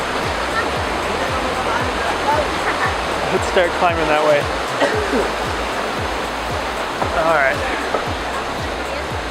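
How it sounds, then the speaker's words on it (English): Steady broadband roar of a waterfall along a hiking trail, a constant rushing wash filling the whole clip, with a person speaking briefly over it partway through. "I didn't realize this had a waterfall too, but apparently there's a waterfall."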